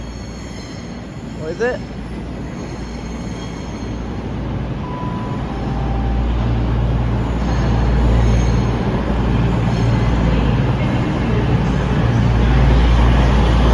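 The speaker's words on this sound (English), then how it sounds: "Here comes the 1225 cross-country service from Manchester Piccadilly, formed of, I think, another 220." A CrossCountry class 220 diesel unit on the service from Manchester Piccadilly arrives at Bournemouth station, a low engine rumble and rolling wheel noise building steadily as it draws in, with a brief tone and a short spoken question early on.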